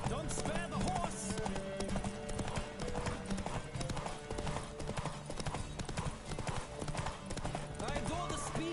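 Galloping horse hooves in The Witcher 3: Wild Hunt drum in a quick, even rhythm, close and constant, while a person talks over the pounding.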